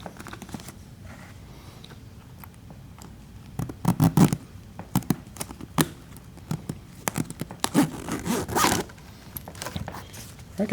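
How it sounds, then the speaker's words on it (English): A tight zipper is worked closed with a pick tool in short, uneven pulls, each a sharp ratcheting zip separated by brief pauses, close and clear. "grab a pick tool into the zipper head, work it down"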